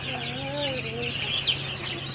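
Five-day-old broiler chicks in a brooder give a few high, thin chirps and a short clucking call over a steady low hum, fairly close.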